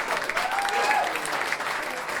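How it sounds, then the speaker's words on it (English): Audience applause at a stand-up comedy special, a steady dense wash of clapping from a full crowd with a few voices mixed in, fairly loud throughout. "I don't know if I've earned that applause"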